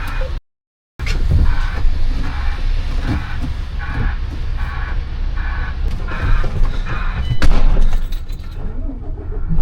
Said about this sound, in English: Give me some rev.